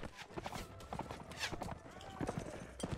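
Horse hooves clip-clopping in the Mount & Blade Warband video game during a battle, quick uneven thuds close by, mixed with other combat noise and talk.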